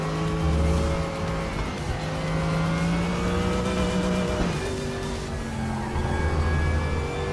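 Race car in the RaceRoom video game, engine droning loudly as it revs and drops through downshifts with rising and falling pitch sweeps, accompanied by tire squeal, continuous and close.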